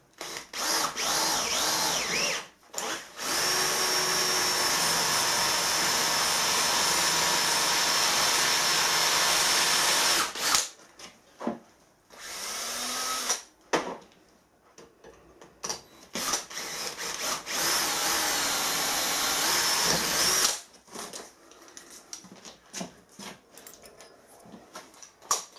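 Cobalt drill bit boring freehand into a piece of very hard steel angle held in a vise, a loud sustained whining grind for several seconds, then a break and a second long grinding run, with short bursts between.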